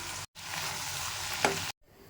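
Sprouted horse gram is stirred into a hot, sizzling tempering in a pan, giving a close crackling fry with one scraping stir, cut short by brief gaps.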